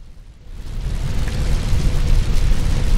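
The BNK-3R bunker blows up in Borderlands 2, a massive explosion that swells from a short quiet start into a loud, sustained rumbling roar lasting several seconds with no talking.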